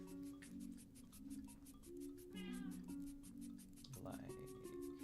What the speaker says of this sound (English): Yes, you're a good kitty cat.